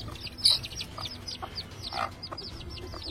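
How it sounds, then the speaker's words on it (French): Hens on a poultry farm, kept with peafowl eggs, cluck in quick, repeated short calls, several birds chattering close by with one louder squawk near the start, no talking. "Là c'est des poules qui sont en test pour voir si elles restent assez pour mettre des œufs de paon"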